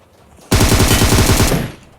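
Sustained automatic gunfire in the battle royale game PUBG, a rapid one-second burst of closely spaced shots, loud and close with no talking over it.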